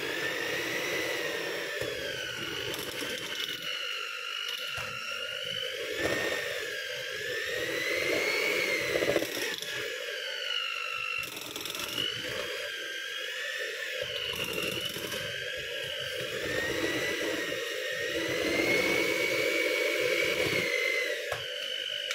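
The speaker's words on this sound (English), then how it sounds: "I mash potato with the machine" An electric machine mashing boiled potatoes for potato cake whirs continuously with a steady, fairly loud hum and a slightly wavering pitch throughout, with no talking.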